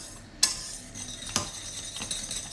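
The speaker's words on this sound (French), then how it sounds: "Je vais encore fouetter" A whisk beats thickening semolina dessert in a pot, with sharp metallic taps against the rim and soft scraping strokes at an uneven pace, close and fairly quiet.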